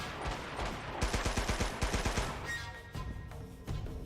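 Rapid gunshots ring out while firing at enemies in Uncharted: Golden Abyss, a quick run of sharp close reports through the middle of the stretch, then a few scattered single shots over a busy game backdrop.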